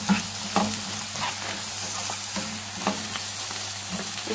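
Spices being stirred into stuffed karela filling as it sizzles in a pan, a steady frying hiss with soft, irregular scrapes and clicks from the stirring spoon, no voices.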